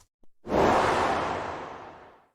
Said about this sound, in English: This is a whoosh sound, which is great for screen transitions and stuff.